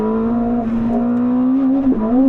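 A 1050-horsepower Ferrari engine drones steadily at close range in race mode on a wet track, holding a sustained tone with a brief dip and a quick rise partway through as it shifts from third to fourth gear.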